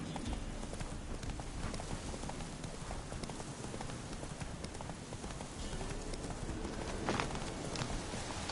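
Horse hooves gallop steadily in the video game Witcher 3, a fast, quiet clip-clop rhythm under a constant wash of ambient noise.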